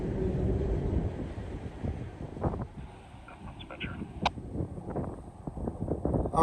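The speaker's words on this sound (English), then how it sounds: "we've got high wind warnings out here, obviously, 55 miles an hour, steady" Strong steady high wind at Cajon Pass, around 55 mph, buffeting the microphone as a low broad rumble. Someone talks over it and a few faint knocks come through.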